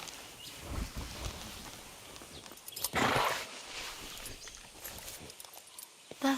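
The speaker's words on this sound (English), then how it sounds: "they put in the sound effects of, like, the horse, like, chomping at the bit there when you pat it" Horse sounds in Far Cry 6 at a horse station, including chomping at the bit while being patted; scattered snorts and hoof shuffles with a louder breathy burst midway, close and moderately loud.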